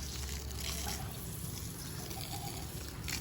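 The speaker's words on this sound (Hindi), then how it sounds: "और ये ठंडा पानी आना स्टार्ट हो चुका है" Cold water runs from a garden pipe while a garden is being watered, a faint, steady trickling and splashing flow continuing for about three seconds with no one talking.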